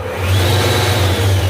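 A Nissan Kicks engine with noisy alternator bearings starts and settles into a steady loud idle, a constant low drone with a faint high whine riding over it, close by and without speech.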